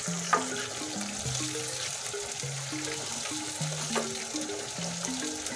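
Pointed gourd (parwal) frying in hot oil for aloo parwal bhajiya, a steady close sizzle and crackle with occasional clinks of a utensil, alone without talk and with a melodic tune playing underneath.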